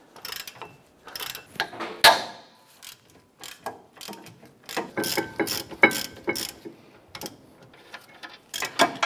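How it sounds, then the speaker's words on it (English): A 17 mm socket and ratchet loosening brake caliper bracket bolts on a 2009-2015 Honda Pilot rear brake, with bursts of close ratchet clicking, clinks of metal and pauses between strokes. "Using our 17 millimeter socket and ratchet, we're gonna go ahead and loosen and remove the two bolts holding our caliper bracket."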